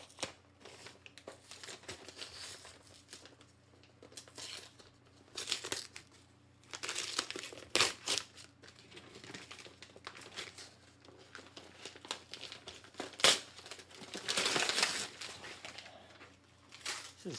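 A taped-up mail package is torn open by hand, with sharp crinkling, ripping and crumpling bursts of tape and paper coming up close in irregular spurts between quiet pauses, with occasional faint talk.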